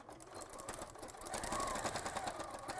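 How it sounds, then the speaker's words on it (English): A domestic sewing machine stitching fabric petals onto a garment, a faint, quick, steady mechanical rattle that speeds up slightly partway through. "I'm just going to sew some of the petals over the top now"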